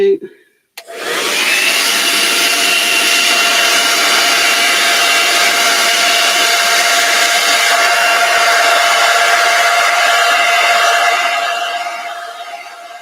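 A hair dryer switches on after a brief pause and blows loudly and steadily with a constant whine, easing off slightly at the end.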